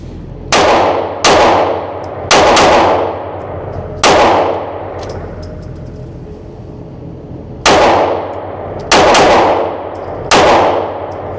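Kimber CDS9 9mm pistol fired in paired double taps outdoors, loud sharp reports in bursts of two with ringing decay, a pause mid-sequence, then more pairs.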